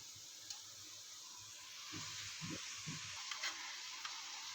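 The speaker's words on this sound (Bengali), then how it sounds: "এবার আস্তে আস্তে এগুলোকে ফ্রাই করা হচ্ছে" Rice fries in a pan with salt, a faint, steady sizzling hiss with a few soft stirring scrapes and light knocks.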